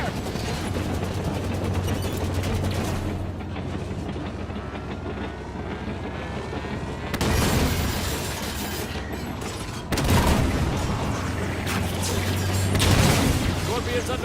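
Halo 5 armored vehicle battle: dense gunfire and booming explosions rumble continuously, with louder blasts swelling in bursts, while soldiers' voices shout over the din.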